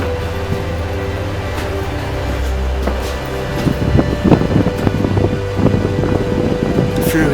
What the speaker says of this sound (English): it is quite windy in here